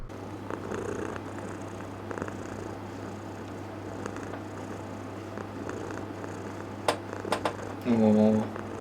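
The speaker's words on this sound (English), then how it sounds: "Look at the size of that cat!" A cat in the Ed, Edd n Eddy: The Mis-Edventures video game purrs in a steady, low rumble throughout, with a few brief clicks and a short tonal game sound near the end.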